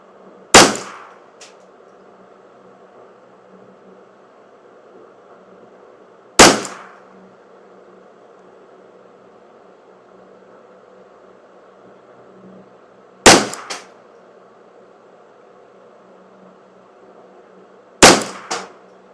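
Four sharp, isolated reports from a Custom Shop 10/22 rifle shooting CCI SV and Eley Contact rimfire ammunition, spaced several seconds apart with quick decaying echoes and a faint outdoor hum between shots.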